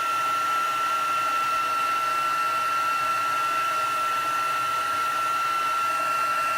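A heat embossing heat tool blowing steadily and close, a continuous whirring hiss with a high tonal whine running unbroken throughout, no talking.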